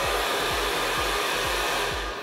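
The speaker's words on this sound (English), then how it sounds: "you switch the dryer on, switch it off, switch it on, turn up the power." A Neuro Motion salon hair dryer runs close by with a steady, loud blowing whoosh, a low pulsing hum beating about twice a second underneath.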